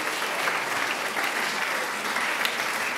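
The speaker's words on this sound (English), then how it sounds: "A big round of applause for Nayanthara Akka." Warm applause from an audience after a session, thick continuous clapping from many hands, loud and steady throughout with no voices over it.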